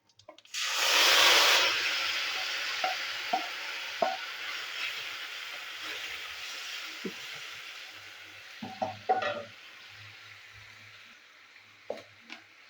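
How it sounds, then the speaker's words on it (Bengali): Spinach drops into hot oil seasoned with bay leaf and Bengali five-spice, bursting into a loud sizzle that settles into a steady fry, with scattered spatula scrapes and taps against the pan. "এবার দিয়ে দেবো পালং শাক"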